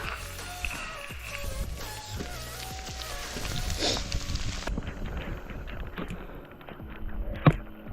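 Heavy rain falls on a narrow, slippery mountain trail along a cliff edge during a trail race, a steady broadband patter with footsteps and rustling, and a sharp knock near the end.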